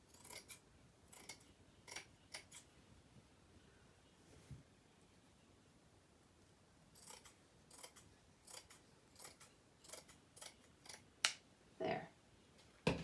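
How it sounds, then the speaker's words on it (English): Scissors snip flannel shirt fabric repeatedly in irregular bursts of crisp cutting sounds, with a quiet pause in the middle before the snipping resumes, closer and sharper. "So now I just go in with my scissors, cut it down."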